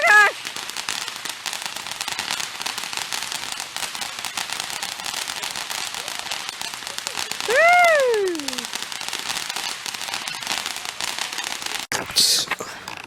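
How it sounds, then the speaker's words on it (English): Independence Day fireworks and firecrackers on July 4th, a dense run of crackling bursts and pops with a louder bang near the start and another near the end, while people cheer and whoop over it. "Those are nice fireworks you have."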